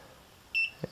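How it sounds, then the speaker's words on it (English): A Wi-Fi dongle for an Ergomotion adjustable bed gives a short, bright electronic beep twice in quick succession, then a brief low thump, against quiet background. "now you hear the Wi-Fi dongle begin to beep"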